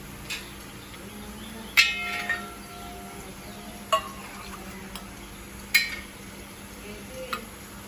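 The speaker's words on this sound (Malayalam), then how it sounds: "നമുക്കിതിൽ നിന്ന് കുറച്ച് ഓയിൽ കോരി മാറ്റാം" Oil is scooped out of a frying pan after onions were fried for a mutton curry, with a few sharp metal spoon clinks against the pan over a quiet, faint background hiss.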